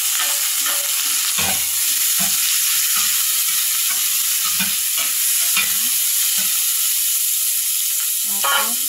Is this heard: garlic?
yes